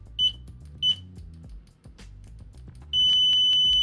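A cheap B-Side ADMS9CL multimeter sounds its continuity beeper: two short high-pitched chirps, a stretch of clicks and handling noise, then a loud sustained latched tone to the end, with no voices.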